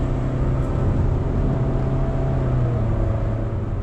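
2024 Honda Brio with a CVT held near 4,000 RPM in normal drive mode at quarter throttle, a steady droning engine hum with road rumble heard from inside the cabin, constant and unbroken, no speech.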